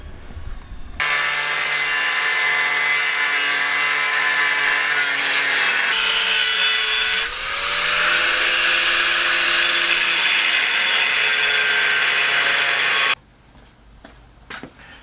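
Power tool cutting sheet-metal repair patches for welding onto bare metal, a loud continuous grinding whine that runs about twelve seconds with a brief pitch dip midway, then stops abruptly into near quiet.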